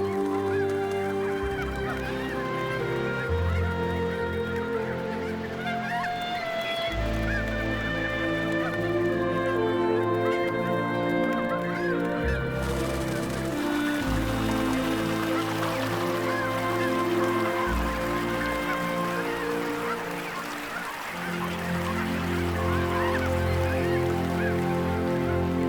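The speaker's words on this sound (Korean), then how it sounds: "쉼없이 날갯짓을 하는 가창 오리들이 넓은 호수를 가득 메운다." A huge flock of Baikal teal ducks over a wide lake at Sapgyoho in Dangjin, South Korea, makes a dense, continuous mass of honking and calling mixed with a rushing wing-beat wash, loud and unbroken throughout.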